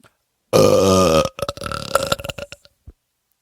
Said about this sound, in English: the dreaded Undercountry Music News Wet Belch of the Week